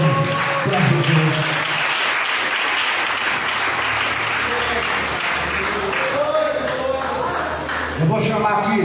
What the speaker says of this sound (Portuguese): Bata as palmas bem alegre para Jesus.